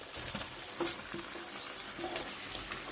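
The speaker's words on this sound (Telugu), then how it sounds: "ఈ మ్యారినేట్ చేసి పెట్టాం కదా చేప ముక్కలు వాటిని కూడా వేసేస్తాం" Quiet patter and light sizzle as marinated fish pieces go into a hot pan for Andhra fish curry, with small scattered crackles and soft clinks, fairly faint and without speech.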